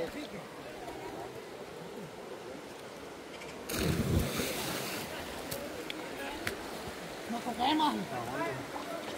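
Water sloshes and splashes as someone wades into a river, with a sudden louder surge midway, under wind buffeting the microphone and people talking nearby.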